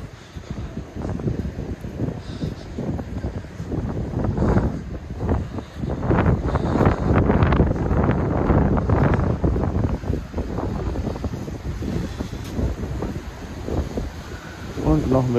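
Strong seaside wind at Cala Ratjada, Mallorca, on a day of high waves, buffeting the microphone in a continuous low roar with gusty swells that rise and fall throughout.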